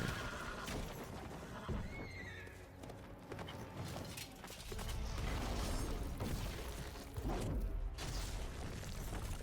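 A horse whinnies loudly amid busy sound effects in The Witcher 3: Wild Hunt, Blood and Wine, with clattering hooves and mechanical thuds filling the background.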